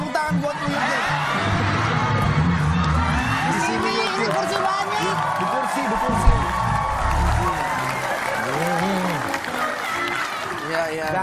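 A TV talk show studio audience claps, cheers and whoops in a lively, sustained burst, with voices talking and shouting over the crowd noise.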